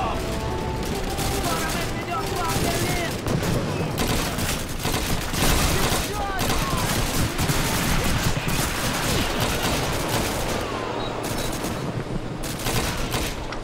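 Dense, sustained gunfire from Call of Duty 2, a video game, with rapid rifle and machine-gun bursts, while a player speaks over the shooting.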